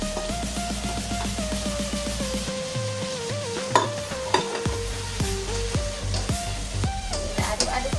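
Green and red chilies and scallions being stirred in a frying pan, a steady close sizzle broken by repeated scraping and clinking strokes, with music in the background.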